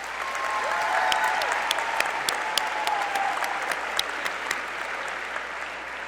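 Sustained applause from an audience at a high school commencement ceremony, dense even clapping filling the room at moderate volume, steady throughout with no talk over it.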